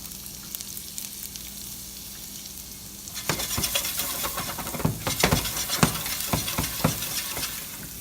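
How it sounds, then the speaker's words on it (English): Shallots and garlic sweat in a pan, a soft quiet hiss for the first few seconds, then a louder sizzle as they go in, with small clinks and scrapes of stirring. "I'm going to sweat my shallots first. And my garlic."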